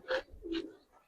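Two short, soft coos from a Giribaz pigeon in a loft, faint and close, about a second in all.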